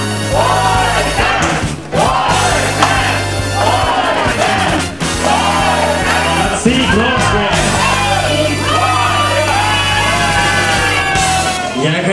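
Guests at a Russian wedding reception shout the traditional 'Gorko' chant together, loud overlapping yells and whoops repeating in bursts across the room.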